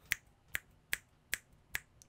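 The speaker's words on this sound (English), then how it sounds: "I'm just snapping my fingers because that's what most people do" Fingers snap crisply five times at an even pace of roughly two per second, close and sharp against a quiet room with no talking.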